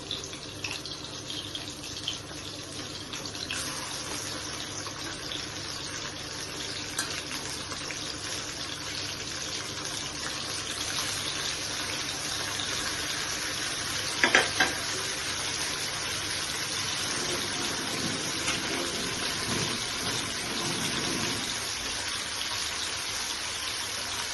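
Hilsa fish frying lightly in a pan, giving a steady, close hiss and sizzle that runs unbroken throughout with no talking.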